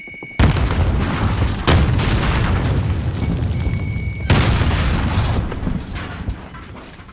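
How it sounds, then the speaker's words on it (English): A loud, close grenade blast in Call of Duty Warzone, with a sharp onset and a long rumbling tail, then a second heavy boom a few seconds later, no voices. "Grenade out!"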